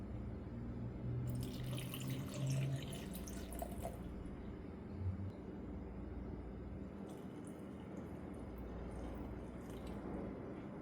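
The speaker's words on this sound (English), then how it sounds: "I'm going to pour half a cup of water into each glass" Water poured from a cup into glasses holding pasta and cereal for a porosity test, giving a soft, steady trickle and splash against a faint background hum, with brief brighter bursts of pouring.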